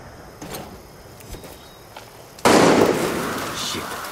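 Gunshots in the video game Far Cry 6: a sudden loud burst of gunfire cracks in after a quieter stretch with faint ambient noise and distant pops, then rings on loudly.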